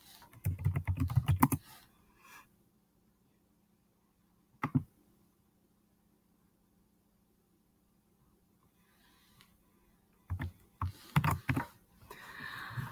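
Computer keyboard typing in short bursts of quick clicks, a flurry at the start, a lone tap midway and a longer run near the end, separated by near silence.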